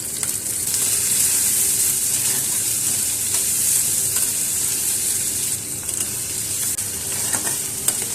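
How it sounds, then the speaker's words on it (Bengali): Spring onion stalks sizzle and hiss in a hot pan while being stirred for a duck egg curry, a loud, continuous close-up frying sound with faint scraping throughout. "পেঁয়াজ কলিগুলো যতক্ষণ না ভাজা ভাজা হচ্ছে ততক্ষণ এটাকে আমার নাড়াচাড়া করতে হবে"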